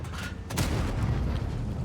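Cannon fire from the tank UDES 15/16 in a tank battle video game, a deep booming blast followed by a long rumbling roar, loud and close, with no talking.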